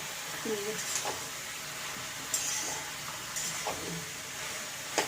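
Fish sizzles and hisses steadily in hot oil in a pan, with faint scraping stirs and a few soft knocks, fairly quiet throughout.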